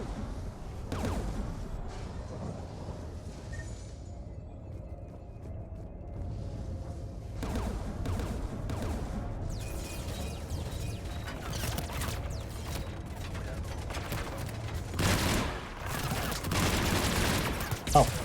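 Gunfire aimed at a gun turret in Mass Effect Legendary Edition, with scattered shots and bursts building into heavier volleys toward the end over a low rumbling background.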